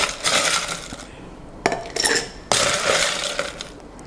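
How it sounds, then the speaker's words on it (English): Ice cubes clatter into a metal cocktail shaker holding tamarind syrup for an Italian soda, coming as a few bright, rattling bursts with short pauses between them, close and fairly loud. "I am going to add some ice"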